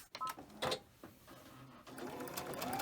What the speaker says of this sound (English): We're going to chain stitch them just like we did before.